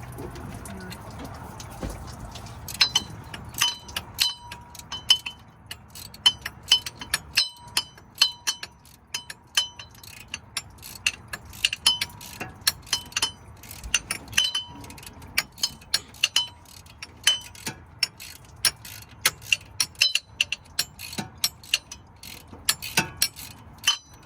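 Ratchet clicking in quick bursts of sharp ticks while loosening the bottom water pump bolt on a 1986 Chevrolet K10, close and clear over a faint low hum, with short pauses between strokes.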